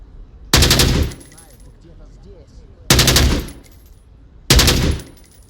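An AK-12 rifle in the VR shooter game Onward fires three loud, sharp bursts of automatic gunfire, each about half a second long, separated by short pauses.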